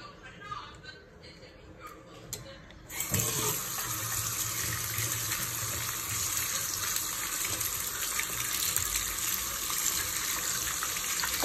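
Tap water runs steadily into a sink as something is washed under it, a broad continuous gush starting abruptly after a few quiet seconds and holding close and loud to the end.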